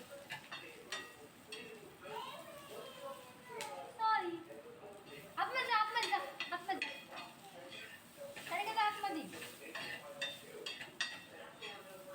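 Chopped onion fries in a pan with a pinch of salt, a steady soft sizzle under a voice, with occasional stirring scrapes and clinks of a utensil against the pan.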